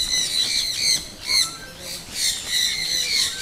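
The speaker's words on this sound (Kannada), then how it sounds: "ನೋಡಿದೆ ಇಲ್ಲಿ ಯಾವ್ಯಾವ ಥರ ಐತೆ ಪಕ್ಷಿಗಳು. ಗಿಲಿ ಬಿಲಿ ಗಿಲಿ ಬಿಲಿ ಗಿಲಿ ಬಿಲಿ ಅಂತ ಕೇಳ್ತಿರ್ಬೋದು" Birds at Kaveri Nisargadhama park in Kushalnagar squawking in repeated shrill bursts, several rough calls rising and falling close by, with no talk.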